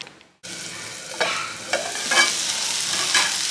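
Amaranth leaves cook in a pan on a low flame with tamarind added, giving a steady close sizzle broken by several stirring scrapes.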